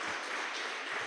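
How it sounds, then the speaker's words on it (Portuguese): A church congregation applauds during an evening service, a brief, dense wash of clapping that fills the room evenly. "E aplauda Ele nessa noite."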